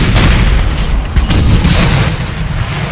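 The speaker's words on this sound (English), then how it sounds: "Got the guns now firing." Artillery cannon fire in the Napoleon Total War video game, loud booming blasts rolling over a dense battlefield roar, with one sharper report near the middle.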